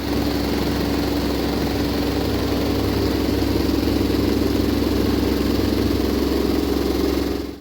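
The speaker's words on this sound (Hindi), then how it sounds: "क्या आपका वॉशिंग मशीन एक होम अप्लायंस कम और एक ट्रैक्टर जैसी नॉइज़ ज़्यादा जनरेट कर रहा है?" A noisy, vibrating LG washing machine runs with a steady, droning hum and rattling buzz, close and continuous like an idling engine, with no talking.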